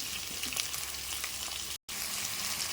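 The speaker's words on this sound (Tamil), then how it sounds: "பெரிய வெங்காயம் போட்டு கொஞ்சம் வதக்குவோம்" Large onions sauté in a pan for a sprouted chickpea curry, a steady dense sizzle heard up close that cuts out briefly for an instant before carrying on. No voices.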